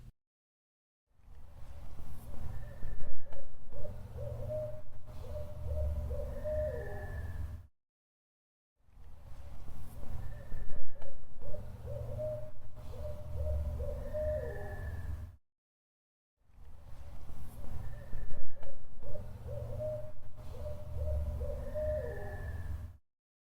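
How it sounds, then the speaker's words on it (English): Owls hoot repeatedly in three stretches separated by short silences, calls carrying over a steady low rumble of night background noise. "And of course, owls came in."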